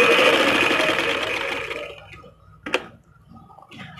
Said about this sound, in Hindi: ये कट का निशान बराबर करते हुए हिप्स वाला बिल्कुल सीधी सिलाई लगा दें